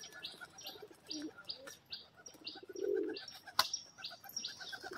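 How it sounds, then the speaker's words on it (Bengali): Giribaz pigeons make soft, low cooing calls nearby. Scattered chirps and a sharp click break in, and occasional light wing flutters sound quietly against a calm background. "এটা একটা নর পায়রা"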